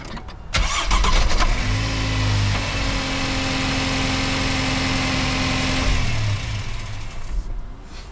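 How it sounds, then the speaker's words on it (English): A GMC Canyon / Chevy Colorado pickup fires up after a battery replacement: a brief starter crank, then the engine catches with a surge and settles into a steady close idle before a slight revving dip near the end. "we should be ready to start it up"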